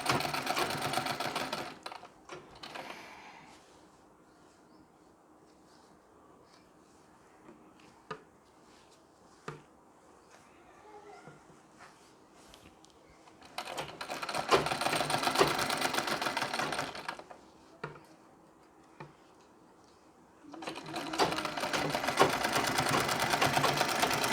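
An electric sewing machine stitching a Nauvari saree runs in three loud bursts of rapid, even needle chatter, close by, separated by quiet stretches with faint handling of the cloth.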